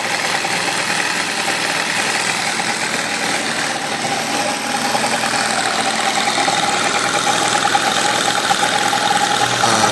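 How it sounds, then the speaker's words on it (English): Benchtop hybrid powertrain engine running steadily under load in a lab rig, a dense continuous mechanical drone with a faint knocking vibration, loud and close throughout with no talk. "Now we'll show you the loaded setup on the other side of the hybrid powertrain."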